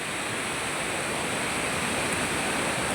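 Water rushes near a temple at night during rain, a dense, steady roar with no breaks, moderately loud and constant throughout.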